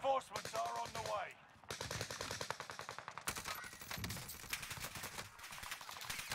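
Rapid automatic gunfire in the video game Vanguard Warzone, with dense bursts of shots rattling almost continuously, loud and close, with brief pauses between volleys.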